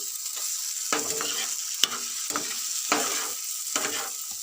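Small chuno fish frying with potato in a pan, a steady close sizzle with repeated stirring scrapes every second or so, no voices.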